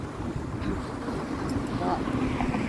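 Wind blowing at the seaside in Boa Viagem, Recife: a steady, loud rush of wind noise buffeting the microphone throughout, with faint surf beneath.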